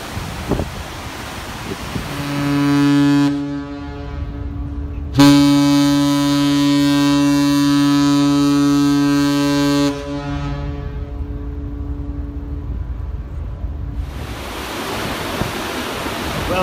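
Cunard liner Queen Elizabeth under way past Albania, heard from the aft deck: steady rushing wind and wake noise, broken by a deep, resonant horn blast, first a short sounding, then a longer sustained one.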